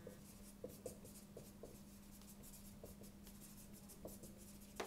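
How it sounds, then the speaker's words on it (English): Faint, close scratching of a pen or pencil writing a short sentence by hand in a quiet room over a steady low hum, in irregular small strokes. "I'm just going to write a little sentence down."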